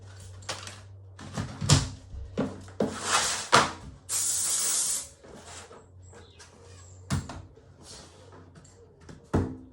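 Spray adhesive hisses from a nozzle in a couple of bursts, one long steady spray, amid clattering knocks and handling noises close by.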